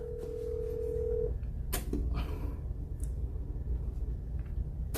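A phone call is dialed: a short steady tone sounds for about a second, then a few sharp clicks and faint beeps follow against a quiet room hum, with no talk.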